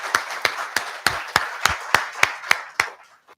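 A conference audience at a Kenya fintech forum claps for Scott, coming across as about ten sharp, evenly spaced claps in a steady slow rhythm before trailing off into quiet.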